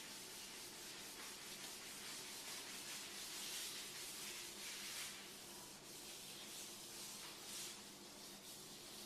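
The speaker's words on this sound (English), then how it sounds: "just squirt it into your hand and then rub it along the edge" A hand rubs granite sealer along a countertop edge, making a soft, steady rubbing and swishing that carries on without a break, quiet and close.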